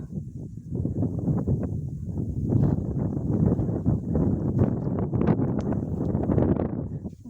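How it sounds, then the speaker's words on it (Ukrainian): Steady wind rushes and buffets close by over a winter wheat field, a continuous low rumble with gusty swells that never let up. "вітер дує"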